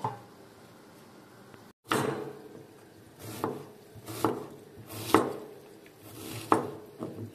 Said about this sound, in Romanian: Tăiem așa un pic mai mare